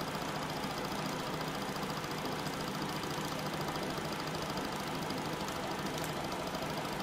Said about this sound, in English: Now that is a very, very smooth steam engine.